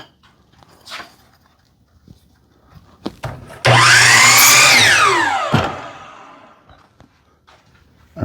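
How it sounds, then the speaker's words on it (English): A miter saw spins up and slices through a wooden board for a holiday planter, a loud close whining buzz that dips in pitch as the blade bites, then winds down, with scattered clunks and handling before and after. "And then we're going to take that to the miter saw,"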